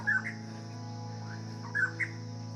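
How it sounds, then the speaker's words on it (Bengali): A bird calls over a rice field at sunrise in the hills near Kalimpong, North Bengal, with two short bursts of bright chirps separated by a pause over a faint, steady low hum. "অদ্ভুত সুন্দর একটা পাখির ডাক"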